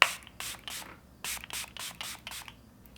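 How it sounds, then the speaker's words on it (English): Makeup setting spray is misted onto the side of a face in a series of short, close, airy bursts, about six quick pumps in a loose rhythm. "I'm just going to spray the side of my face"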